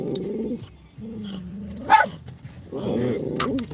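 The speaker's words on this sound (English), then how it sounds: "Leave them dogs alone, man." Dogs barking, growling and yipping close by in a scrappy, uneven tussle, with a sharp yelp near the middle and rough snarling before and after, fairly quiet overall with no talk.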